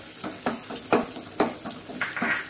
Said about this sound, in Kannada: ಗೇರು ಬೀಜ ಫ್ರೈ ಆಗುವಾಗ ಈ ದ್ರಾಕ್ಷಿಯನ್ನು ಹಾಕೊಂಡು